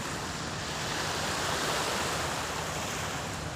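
Steady sea surf washing in at Marine Drive, a broad continuous roar with wind buffeting the microphone, no distinct individual wave breaks, moderately loud throughout.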